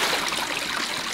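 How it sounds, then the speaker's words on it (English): Water splashes and trickles steadily into a dug hole at an off-grid site, a continuous hissing gurgle heard close by. "You hear that? Splish splash."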